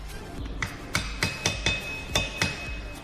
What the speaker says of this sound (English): Now we'll be locking the washer using screwdriver and hammer.